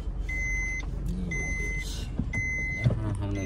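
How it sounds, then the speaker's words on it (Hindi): Car being parked outside a haircutting salon, with repeated high reversing beeps sounding in rhythmic bursts over a low idling engine and brief mechanical clunks. "यहाँ हमने गाड़ी को पार्क कर दिया"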